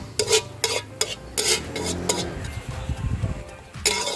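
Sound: scooping crispy fried garlic out of hot oil

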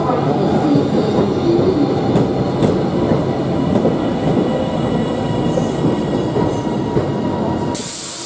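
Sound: steam train 45699 Galatea arriving at station

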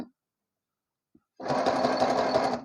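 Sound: sewing machine zigzag stitching a fabric edge

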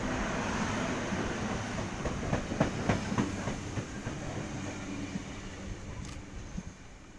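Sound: Sydney Waratah train arriving at platform

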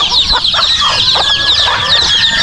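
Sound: chickens clucking on a farm

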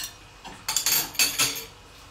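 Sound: plate being set down for plating fish and chips

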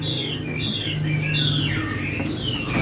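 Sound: European starling calls at bird market

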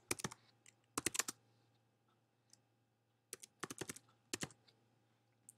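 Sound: typing on a computer keyboard

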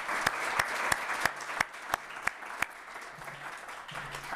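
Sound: audience applause

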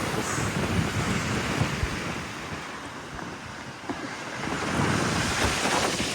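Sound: strong wind on a hilltop viewpoint

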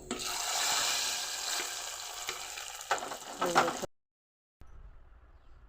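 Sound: tempering spices sizzling in oil

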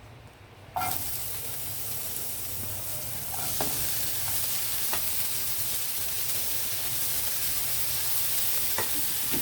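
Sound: onions frying in oil in a pan

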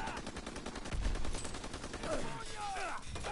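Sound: sniper gunfire in video game Call of Duty WW2

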